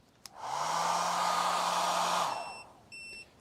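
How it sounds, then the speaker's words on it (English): A travel hair dryer powered by an ALLPOWERS R600 portable power station blows with a steady, loud whooshing roar that starts abruptly, runs about two seconds, then cuts off as the unit fails, followed by a brief high electronic tone. "So hairdryer, okay, turn it on. So the hairdryer's on."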